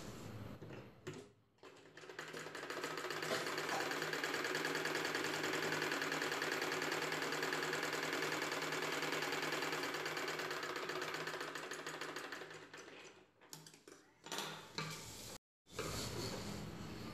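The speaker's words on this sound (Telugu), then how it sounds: "పైవైపున ఇంకొక కుట్టు వేసుకోవాలి." Sewing machine stitching an umbrella top, running in one long steady whirring, rapid-ticking burst close by, then a few short stop-start runs near the end, with no talking.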